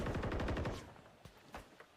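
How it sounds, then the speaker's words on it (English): Automatic gunfire in a Call of Duty esports match, a rapid burst of shots up front, then a few separate, fainter reports trailing off. "Couple of gunshots rattle out."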